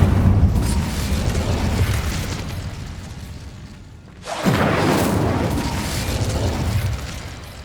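A fire spell is cast in Hogwarts Legacy, giving a loud burst with a fiery whoosh. Dense crackling and rumbling game action runs underneath and swells again after a brief dip.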